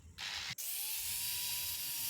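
Power tool at speed 3 sanding a glass edge with P120 sandpaper, a steady high whine with a brief dip after a start, continuous and close.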